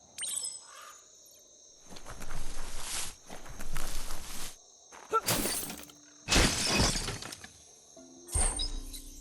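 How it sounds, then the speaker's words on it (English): A wooden box is smashed in the video game Biomutant: several sharp crashing, shattering bursts arrive in uneven succession, close and loud, with brief quiet gaps and light ambient game sounds between them. "You shouldn't worry about smashing up the box."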